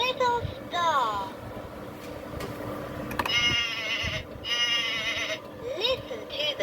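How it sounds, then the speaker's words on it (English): Electronic Vtech rhyme book toy playing sheep bleats, a few thin wavering bleats over tinny background music and a recorded voice, fairly faint. "Listen to the sheep sing."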